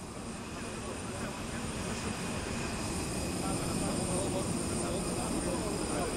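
An airplane engine drones steadily after arrival at Hangzhou for the G20 Summit, a loud, continuous broadband roar with a faint high whine.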